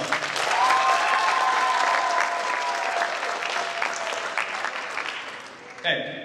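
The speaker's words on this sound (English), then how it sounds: "Give them our seniors another round of applause" Loud, dense clapping fills a high school orchestra concert hall as the crowd applauds the seniors, steady throughout and fading slightly before a voice comes in at the end.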